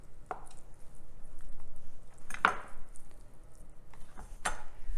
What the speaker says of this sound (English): that's all the chopping we pretty much have to do for this recipe